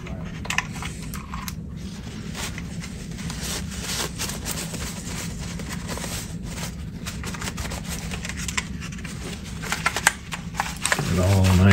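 Paper towels rubbed and wiped over a Mac Plus keyboard, with close, soft, irregular rustling and scrubbing and light clicks of keys, growing busier toward the end over a low steady hum.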